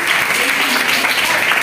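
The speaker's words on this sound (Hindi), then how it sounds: "अपने आप को तालियां बजा भाई" Brief burst of dense clapping from a class of students during a Hindi lesson, steady and fairly close for under two seconds.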